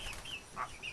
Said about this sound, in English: Stupid pigeon.